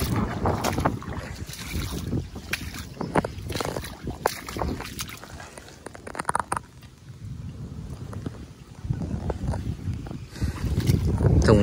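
A tiller fitted with a homemade tilling drum churns through soil in a field. Its rough, rumbling engine and digging noise run continuously and fairly close, mixed with gusting wind buffeting the microphone.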